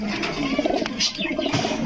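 Pigeons coo close by, soft throaty calls overlapping, with faint talk mixed into the background.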